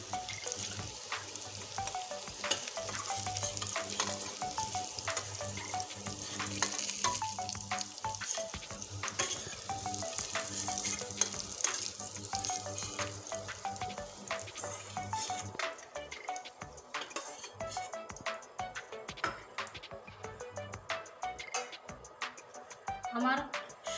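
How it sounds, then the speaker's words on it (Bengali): Potatoes fry in a pan with spices for a soybean and potato curry, a continuous crackling sizzle with scattered pops and stirring scrapes that runs steadily throughout, a voice faintly present beneath it. "আমার আলুগুলো আমি লাল করে দেখুন কতটা সুন্দর করে ভেজে নিয়েছি"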